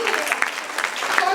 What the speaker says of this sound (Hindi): तालियां होनी चाहिए